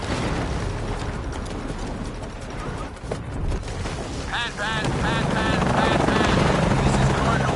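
Helicopter in Shadow of the Tomb Raider with a stalling engine, a loud continuous rotor and turbine roar, with warbling alarm-like tones joining midway, under urgent voices.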